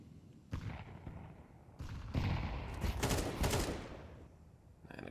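Repeated gunfire from a competitive tactical shooter match, with several separate bursts of shots and rapid volleys that build to a dense, loud cluster near the middle before a short final burst.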